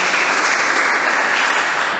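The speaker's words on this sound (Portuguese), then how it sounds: "Dê uma salva de palmas para Jesus." Church congregation applauding together, a dense, even wash of clapping hands that holds steady and loud for about two seconds, with no voices over it.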